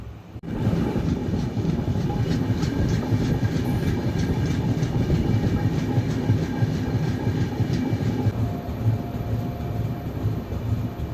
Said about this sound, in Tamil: அம்பாத்துறை ஸ்டேஷன்லேருந்து ட்ரெயின் பார்த்தீங்கன்னா டிபார்ட் ஆகிடுச்சிங்க